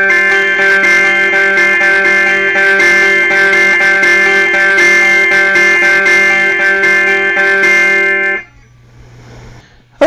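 Electric guitar plays the intro riff of a song on a clean tone in standard tuning, with steady sustained chords for about eight seconds before cutting off into near silence.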